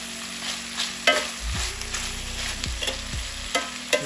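Pork and vegetables stir-fried in a pan with olive and sesame oil for yakisoba, a steady sizzle broken by several loud scraping tosses and clattering stirs, close and without any talk.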